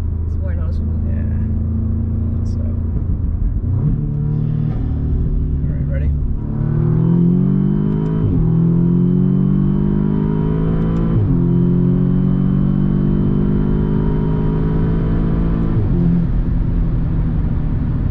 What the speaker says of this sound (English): See, you can hear the exhaust more too.